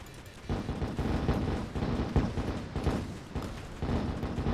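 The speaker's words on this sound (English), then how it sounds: "And those mortars, they lock on to any enemy, which is pretty nice." Mortar fire in Attack on Toys bursts as a rapid, dense series of loud booming thumps that run together, close and continuous, with no talk.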